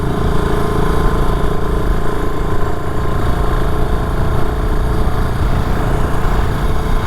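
A BSA Gold Star retro motorcycle engine running continuously while being ridden, a loud, steady rumbling drone with a throbbing low end and no change in pace, mixed with road and wind noise.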